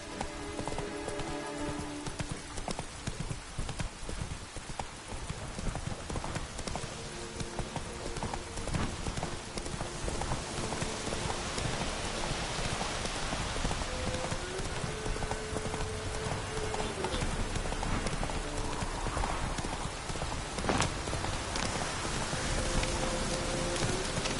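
A horse gallops in The Witcher 3 with a steady, loud clip-clop of hooves under a constant wash of rain. The sound runs continuously and close throughout, with faint game music beneath it.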